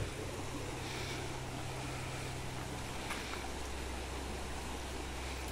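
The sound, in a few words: rushing river current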